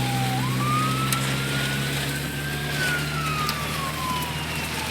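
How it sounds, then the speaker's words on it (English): An ambulance siren wails from behind a vehicle on a road through tornado damage in Henryville, rising and gliding in pitch as it approaches, loud and continuous over a low steady engine drone. "Got an ambulance coming up behind us."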